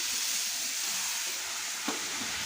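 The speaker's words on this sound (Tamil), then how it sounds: "இந்த விழுது சேர்க்கும்போது கண்டிப்பாக அடுப்பை சிம் பண்ணிவிடுங்க இல்லைனா அப்படியே புஷ்ஷுன்னு மேலே அடிக்கும்" Ground spice paste sizzles in hot oil over a high flame, a steady loud hiss with one sharp splutter near the end and no voices.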